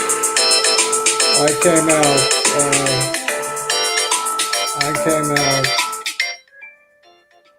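A phone ringtone plays loud and melodic over several seconds in a talk setting, with a brief voice partway through, then the tune cuts off and a few faint chimes follow.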